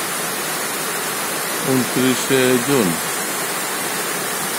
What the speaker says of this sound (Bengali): সকাল 10:30টার বৃষ্টি, 29শে জুন।